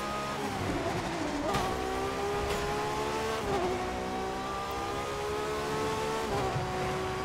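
A Ferrari FXX K in the racing game The Crew 2 drives steadily with a loud, continuous engine drone, its pitch climbing and dipping through several gear shifts.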